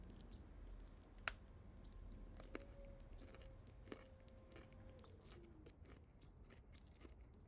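A crunchy, fractal-textured snack is bitten and chewed close up, giving a sharp initial crack followed by a run of quiet, irregular crunching clicks over low background hiss.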